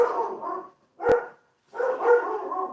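Dogs bark indoors at home in three loud, close bursts separated by short gaps.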